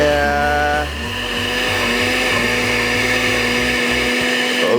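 Kitchen blender whirring steadily as it mixes squash cake batter with egg and vanilla, loud and continuous, its pitch dropping slightly after a second as the load settles.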